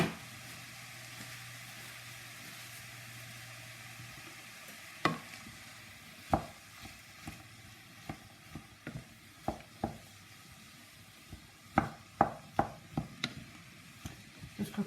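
Spaghetti bolognese sauce simmers quietly in a pan while a spoon stirs and scrapes it, leaving a run of soft knocks and clacks over a low hiss.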